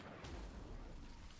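Fire spell cast in the Hogwarts Legacy video game: a steady low rumbling roar with a brief bright whoosh near the start, loud and close, with no talking.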